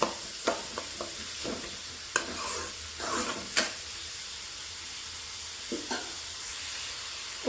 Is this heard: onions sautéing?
yes